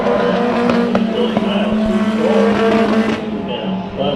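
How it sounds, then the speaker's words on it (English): A 9R race car circling a Bakersfield Speedway heat race with transmission trouble, its engine droning steadily with a constant pitch and occasional tire noise over the whole span, loud and continuous. "Sounds like transmission problems for the"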